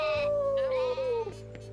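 A single drawn-out sheep bleat with a slowly falling pitch, loud and close, sounding over a soft musical background in a children's fairy-tale scene.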